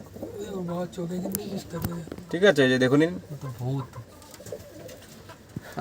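A male and female pair of caged Madrasi tournament flying pigeons coo in soft, low, throaty rolls close by, while someone talks over and between the calls.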